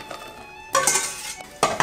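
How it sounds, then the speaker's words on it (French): Coconut custard of coconut milk and egg mixture being poured back into a metal saucepan, with two clattering bursts of pan and utensil contact, close and fairly loud, no voices. "Je vais remettre le tout dans ma casserole."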